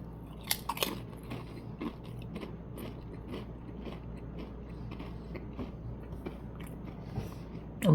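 Crisp Pringles chips in Miller Lite flavor are chewed close to the mic, a string of soft crunches and quiet munching with a few sharper bites near the start.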